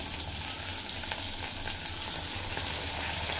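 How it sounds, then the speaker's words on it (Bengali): Tomato with ginger and green chili paste fries in a pan, giving a steady close crackling sizzle with faint stirring scrapes throughout. "আদা কাঁচা লঙ্কার কাঁচা গন্ধ চলে যাওয়া পর্যন্ত ভেজে কষিয়ে নেব"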